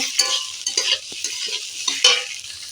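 Boiled bamboo shoots tossed with potatoes in a pan, close and fairly loud: repeated scraping and shuffling strokes of a spoon with light sizzling between them, in an irregular stirring rhythm.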